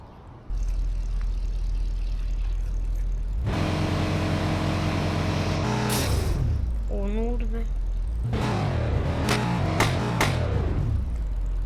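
Tofaş car driving in a speed test, the engine rising and revving in loud, close bursts with a hum that shifts pitch, while people talk in Turkish over it.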